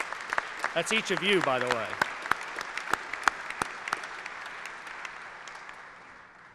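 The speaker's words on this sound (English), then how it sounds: "let's give all our supporters a round of applause" Scattered applause from supporters at a coalition announcement press conference, sparse claps spreading through the room and slowly thinning out, with someone speaking over the start.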